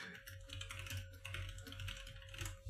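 Rapid, steady typing on a computer keyboard, a close stream of soft clicks and clacks, faint overall and with no voices over it.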